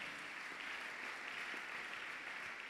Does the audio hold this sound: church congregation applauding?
yes